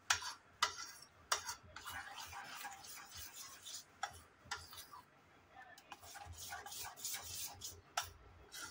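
A spoon stirs rava idli batter in a bowl, making soft scraping swirls and light clinks against the side, faint and close with no talking.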